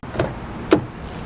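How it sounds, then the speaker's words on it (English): Power liftgate of a 2024 Mercedes-AMG GLS 63 closing, heard as two short mechanical clunks about half a second apart, the second a little louder, over quiet background hum. "just press that and that will lower the hatch right back down"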